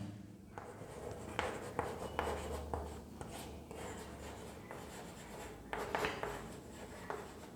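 Chalk or marker scratches across a board during a chemistry lecture: close, soft strokes and taps in irregular bursts over low room hum, with no talking.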